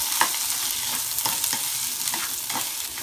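Two medium onions, finely chopped, sizzle and crackle steadily in a hot pan for a drumstick poricha kuzhambu, with a spoon stirring them in soft, regular scrapes close by.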